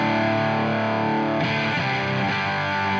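Electric guitar run through the Arturia FX Collection 2 clipping distortion, a loud, saturated, sustained chord with dense fuzzy harmonics that shifts to a new chord partway through, played alone with no talking.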